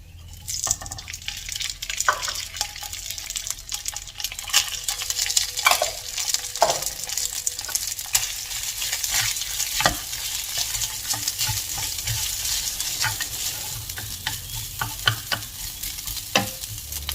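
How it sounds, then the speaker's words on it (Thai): Cooked rice stir-fried in a pan with a little oil for laab chicken fried rice, a steady bright sizzle running throughout with scattered scraping and clinking spatula strokes, close and continuous, no voices. "หลังจากนั้นเราก็จะนำข้าวลงผัดเลยค่ะ"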